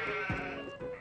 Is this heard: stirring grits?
no